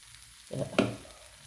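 Jackfruit and coconut fry in ghee, with a brief stirring scrape and a quick sizzle in the middle of an otherwise quiet stretch, close by and with no talking.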